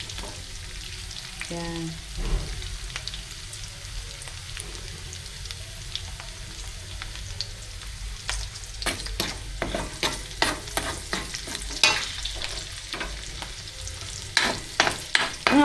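Garlic sautéing in a pan for pakbet, a steady sizzle with sharp stirring clatters growing busier toward the end; a brief word is spoken.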